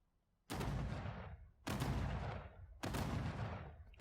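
Cannon tower in a Dreams tower defense game firing three heavy, booming shots at an even, slow rhythm, each blast loud and close with a long decaying tail, no talking.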